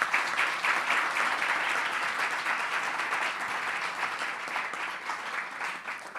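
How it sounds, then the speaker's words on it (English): Audience applause for a speaker holding a master's in conflict transformation at a community dialogue event, a steady wash of many hands clapping at moderate level, sustained evenly throughout with no voices over it. "Please give him a round of applause."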